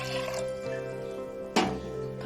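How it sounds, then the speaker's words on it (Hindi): Roughly a litre of water pours into a pan on a lit gas stove, a steady liquid gush with a brief louder splash near the end, heard close and alone. "इसमें 1 लीटर करीब पानी डाल देते हैं।"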